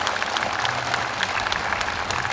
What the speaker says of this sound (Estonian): Me oleme seda meelt, et peaksime tegema tugeva aplausiga Türi pritsumeestele.